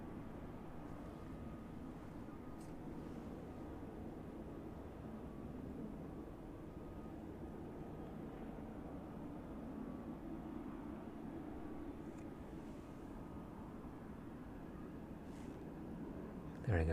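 An aircraft descends toward East Midlands Airport, heard as a faint, steady, distant engine rumble that holds evenly throughout, with a voice speaking over it.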